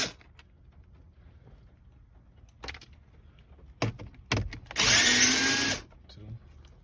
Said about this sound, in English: there is a long process of screws you gotta take out